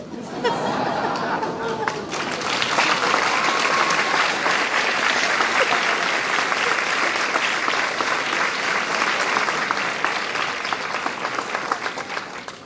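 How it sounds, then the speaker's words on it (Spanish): An audience at a talk bursts into sustained applause after a brief stretch of speech, a thick, even roar of clapping with murmured chatter lasting around ten seconds. "No sé si me aplauden a mí o a Flor."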